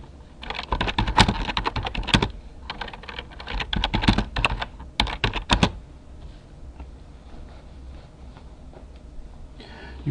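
Rapid keyboard typing, a dense run of crisp clicks in bursts for about six seconds, then it stops and quiet room tone remains.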